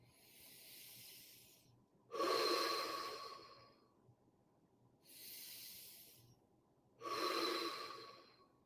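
Slow, deliberate breaths during a breathing exercise, two long airy inhale-exhale cycles alternating softer and louder, close and clear with no talking.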